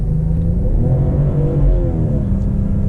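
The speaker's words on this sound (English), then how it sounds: "All right, little acceleration there." A BMW 540i with 335 horsepower accelerating on a test drive, its engine a steady, loud rumble that rises smoothly in pitch from inside the cabin, with no one talking.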